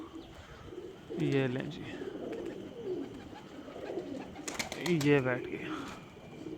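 Pigeons cooing at a loft during evening training, two clear bursts of throaty rolling coos near the start and later, with someone talking quietly in between and soft background chirps.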